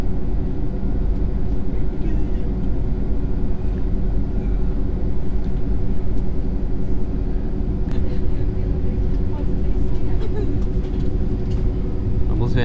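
Loud, constant low rumble of an airliner's jet engine during takeoff, filling the space, a steady roar that stays heavy throughout.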